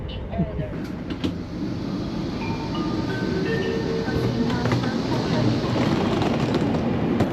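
A train rumbles steadily as it slows on its approach into the station in Suzhou, a low continuous roar inside the carriage with people talking over it.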